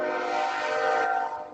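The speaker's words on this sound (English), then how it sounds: "Oh, lovely trains." A train on tracks about a block and a half to two blocks away sounds a sustained, loud, steady horn blast that fades slightly at the end, with no one talking.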